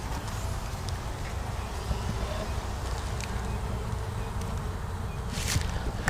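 A honeybee swarm buzzing steadily in a hive, a dense continuous drone heard close up, with a few brief louder passes of individual bees.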